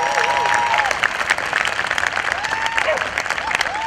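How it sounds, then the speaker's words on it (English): Applause from a crowd at an outdoor rally against a freeway expansion, steady dense clapping that fills the whole moment, with cheering voices and whistles mixed in. "Can we give a round of applause for Sunrise?"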